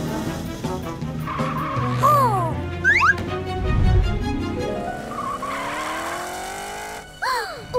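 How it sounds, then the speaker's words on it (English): Cartoon race car tearing along at speed: squealing tires and skids, revving engine sweeps and zooming passes in a busy, loud burst, mixed with bright cartoon sound effects and short vocal exclamations. "Morph into a super fast race car to catch Orphle."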